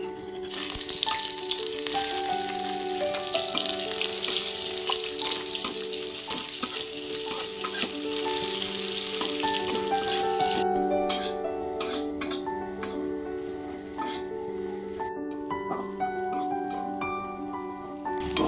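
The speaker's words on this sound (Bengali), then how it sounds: "এবার দেখো একটা ছোট সাইজের পেঁয়াজ আর চার কোয়া রসুন তেলের মধ্যে দিয়ে হবে" Small onion and four garlic cloves frying in hot oil with dried chilli, a steady loud sizzle throughout with occasional clinks of a utensil against the pan.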